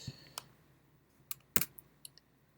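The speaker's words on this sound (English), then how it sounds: "the exact same process of tediously hitting the calculator and typing them in" Calculator keys are tapped one at a time, giving scattered crisp plastic clicks with short pauses between them, close and isolated against a quiet background.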